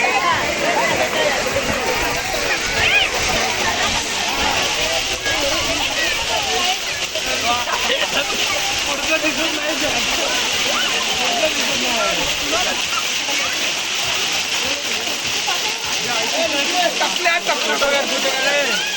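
Bhivpuri waterfall in the monsoon gives off a continuous loud rushing hiss of falling water, with voices talking intermittently over the roar.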